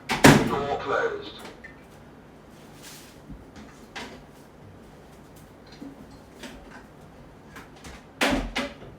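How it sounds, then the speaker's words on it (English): A door in a home kitchen shuts with a sharp thump near the start, with a second similar knock near the end and quieter handling noise between. "Door closed."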